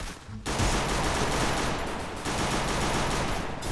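Rapid gunfire from a shooting video game, a dense, loud burst of continuous automatic shots that starts abruptly and runs almost without a break.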